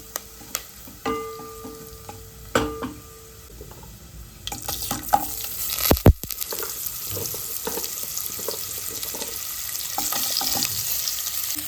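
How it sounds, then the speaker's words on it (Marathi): Spices including cumin powder and a house masala sizzle as they are sautéed in a pan, with scattered stirring clicks and a sharp knock midway. Faint running water sounds in the background. "चांगलं परतून घ्यायचं."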